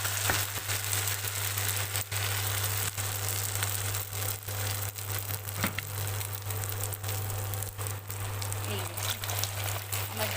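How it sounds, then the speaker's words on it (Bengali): Batter-dipped chicken cheese balls deep-frying in hot oil give a steady, close crackling sizzle that runs the whole time over a low electrical hum. "গরম তেলে ছেড়ে দেবো এই দেখুন এভাবে আমি গরম তেলে ছেড়ে দিলাম"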